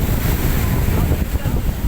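Ocean waves roll onto Chavakkad beach in a continuous, loud wash of surf, with heavy wind buffeting the microphone throughout.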